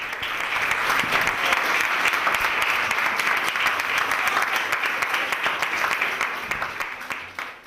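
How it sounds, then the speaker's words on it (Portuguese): A church congregation gives sustained, dense applause for a visiting preacher at an evening service, steady and full from start to finish before tapering slightly at the end. "com uma salva de palmas em nome do Senhor Jesus"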